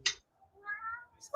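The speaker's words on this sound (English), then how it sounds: "Oh, did you hear the meowing?" A pet cat meows twice, close and clear: a short sharp cry at the start and a longer, drawn-out meow in the middle, with a faint voice at the very end.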